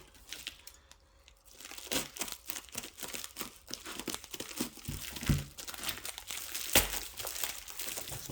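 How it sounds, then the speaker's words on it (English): Tape and packaging are torn and crumpled while opening a parcel of junk silver dimes, close crinkling, ripping, and crunching bursts that come in irregular bunches over several seconds. "There's some tape on here. Let's go ahead and open this up."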